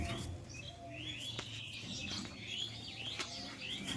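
Pigeons, including a Malbahi hen and a desi Giribaz cock, give faint repeated chirps and soft calls against a low background hum.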